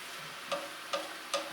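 Spinach wilting in about three tablespoons of olive oil in a pan: a quiet, soft sizzle under three evenly spaced scraping stirs of a spoon, with no talking.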